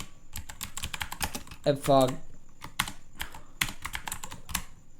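Rapid clicks of a computer keyboard as code is typed for a React.js web project, bursts of close keystrokes of varying pace, with a brief spoken word partway through.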